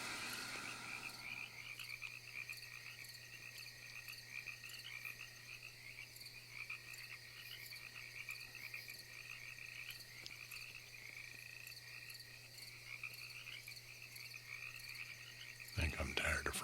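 Frogs croak steadily as a soft ASMR ambience, a continuous layered chorus with a low steady hum beneath it. A sudden louder rustle comes near the end.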